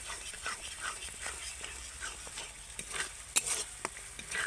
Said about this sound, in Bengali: মশলাটাকে আমি নেড়ে নেড়ে খুব সুন্দর কষিয়ে নিয়েছি